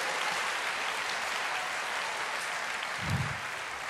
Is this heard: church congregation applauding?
yes